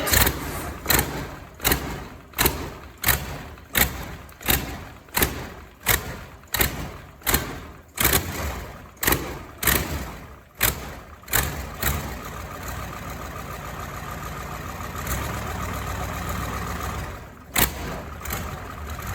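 A Ford F350 pickup with a Caterpillar diesel swap and aftermarket headers cranks over in repeated heavy rhythmic thumps, fires, and settles into a loud, rough idle before a final few cranking beats.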